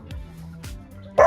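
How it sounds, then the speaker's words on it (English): A dog gives a few short, sharp yips indoors, with a louder bark at the end, close by and alone. "Pardon my dog."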